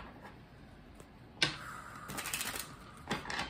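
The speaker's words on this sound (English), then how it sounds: "as I'm shuffling these cards" Tarot cards shuffle in quiet surroundings, producing soft riffling clicks and papery flutters with a sharp snap near the middle and fuller rustling bursts afterward.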